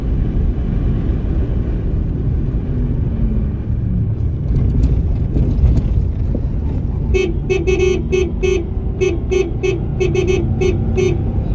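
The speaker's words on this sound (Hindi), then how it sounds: "हॉर्न अच्छा बजा लेता हूँ मैं वैसे" A car horn honks in a rapid series of short toots over steady engine and road rumble on a mountain road trip in Ladakh, close and fairly loud.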